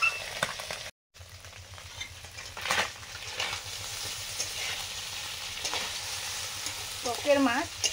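Koi fish fry in a pan with a steady, close sizzle and stirring scrapes, broken by a brief silence near the start and a short squeaky scrape near the end.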